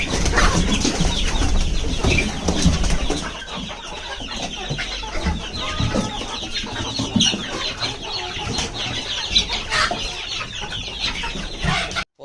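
Many native chickens on a farm cluck and chatter continuously in a busy flock, close by, with occasional sharper squawks rising above the steady murmur.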